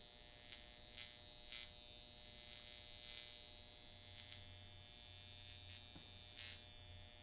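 A Vortex Wand Pro electric hair device buzzes faintly and steadily, with a low hum and a few brief sharp crackles scattered through it, and no talking.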